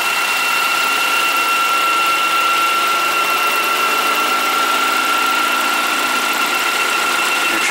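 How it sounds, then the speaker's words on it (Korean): A BMW F10 528 engine idles steadily with a persistent high-pitched whistle riding over the hum, constant and unchanging throughout; the whistle stops when a cap is opened. "휘파람 소리가 이렇게 발생이 되고 있고"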